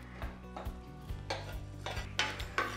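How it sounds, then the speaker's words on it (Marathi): Coriander seeds dry-roasting in a pan, repeated scraping and clinking of a spatula against metal in a loose rhythm, with a faint rattle of seeds between strokes. "हे धने पण भाजून घेणार आहे।"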